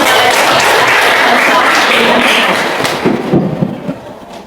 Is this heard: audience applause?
yes